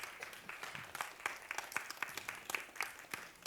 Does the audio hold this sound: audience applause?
yes